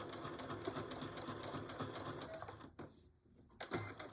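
A sewing machine stitches a Betty Boop pillow cover in a fast, steady whirring chatter that runs close and loud, pauses briefly near the end, then starts again.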